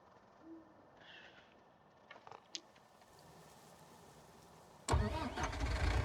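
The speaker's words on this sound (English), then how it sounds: "So that is what this Lintner Uni Track 122 sounds like." A Lindner Unitrac 122 tractor in Farming Simulator 19 cranks and fires up near the end, its engine jumping to a loud, steady run after several seconds of faint background noise and a few small clicks.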